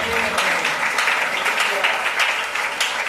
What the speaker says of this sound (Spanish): Dile un aplauso a la verdad de Cristo.